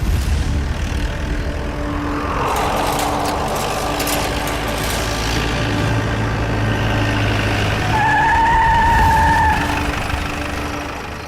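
A car in a crime drama chase brakes hard, its engine drone winding down before a loud, sustained tyre screech rings out near the end as it skids to a stop.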